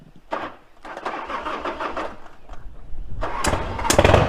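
A motorbike engine cranks and starts, with sputtering bursts that rise into a louder, rougher roar toward the end, close by and with no speech.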